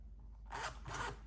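Two quick zipper pulls on a soft wallet, one after the other, close and clear in a quiet room with no talking.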